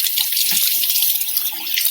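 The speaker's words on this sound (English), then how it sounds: "I'm going to rinse my hands a bit." Water runs steadily from a kitchen tap as hands are rinsed beneath it, a close, even hiss and splash with small irregular patters lasting about two seconds.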